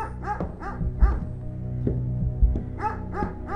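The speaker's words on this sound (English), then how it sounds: "Wow, the dog's barking." A dog in the video game Jenny LeClue barks repeatedly in short yapping bursts over a low droning game background, fairly close and steady throughout.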